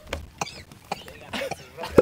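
A man coughs after laughing, giving a few short, sharp bursts with a louder final cough, close to the mic amid faint background noise.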